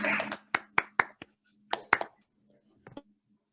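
Scattered claps from a few people on an online awards ceremony call for new student representatives: sparse, separate hand claps in two loose bursts, close and uneven, with faint background hum and pauses between.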